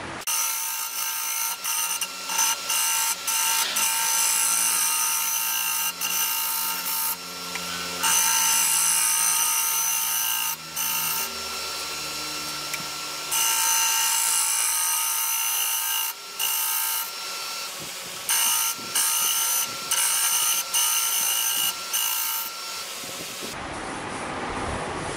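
A lathe turns the back of a striped wooden platter while the gouge shaves it with a loud, steady scraping hiss. The cutting pauses and resumes several times, and no voice comes through.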